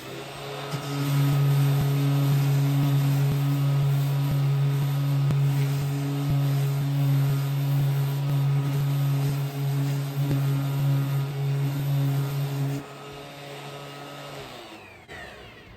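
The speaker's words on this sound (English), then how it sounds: "You would take your sander and you would rock it back and forth, go back and forth and rock it." An orbital sander is rocked back and forth to round over a wood corner into a slightly broken edge, giving a loud steady close-up whine that runs without a break for about twelve seconds and then cuts off.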